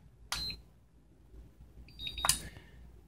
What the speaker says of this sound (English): press and hold the start button until you hear a beep